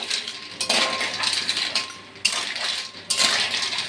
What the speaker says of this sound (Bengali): ভালো করে এবার নাড়াচাড়া করে নেব।